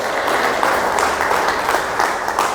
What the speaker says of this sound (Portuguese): As palmas são do Senhor.